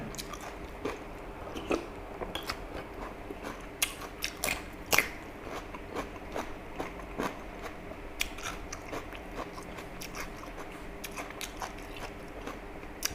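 Chewing on spicy pounded Mama instant noodle salad, close and crunchy, with steady wet bites and mouth sounds repeating throughout and no talking.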